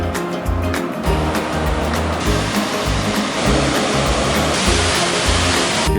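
The steady roar of a waterfall, loud and continuous, with rushing water and low rumbling throughout and no voices.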